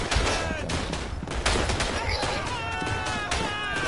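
Shotgun blasts in the World War I shooter Verdun, several loud sharp reports spread across the clip with echoing battlefield noise and a voice talking underneath.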